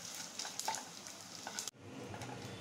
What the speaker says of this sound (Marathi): राहिलेला डिंक आपल्याकडे आहे तोही मी असाच तळून घेते